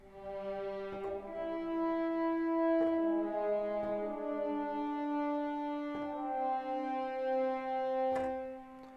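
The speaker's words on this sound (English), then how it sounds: "So the 4 horns in the legato patch sounds like this." Four horns in a sampled legato patch hold smooth, connected sustained notes together, the harmonies shifting gently from one chord to the next without breaks.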